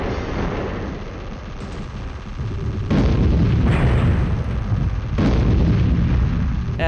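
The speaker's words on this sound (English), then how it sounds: "Got my acid cannon charged." Acid cannon firing in the Storm Winds video game, a dense rumbling blast that swells into two heavy bursts, loud and continuous with no voice.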